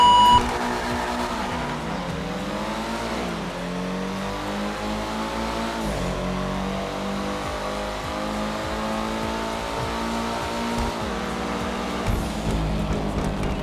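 Two cars racing in GTA 5, a Pfister (Porsche-based) rear-wheel-drive car against a Benefactor (Mercedes-based) car: loud, continuous engine drone climbing in pitch through repeated gear shifts, steady and close throughout.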